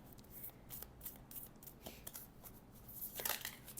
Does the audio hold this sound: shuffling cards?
yes